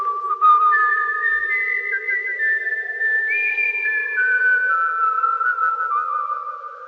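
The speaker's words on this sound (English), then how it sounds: "and he whistled." A person whistles a favourite tune, a clear, steady melody of gliding and held notes over about seven seconds, close and alone with no talking.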